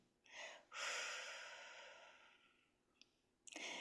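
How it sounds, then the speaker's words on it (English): Slow, deliberate breathing during a mindful exercise: a long audible inhale and exhale through the nose, followed by a brief pause, a small click, and the start of another breath, close and soft. "And breathe in again in this mindful, deliberate breath"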